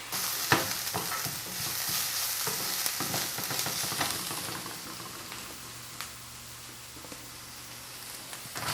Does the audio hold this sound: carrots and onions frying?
yes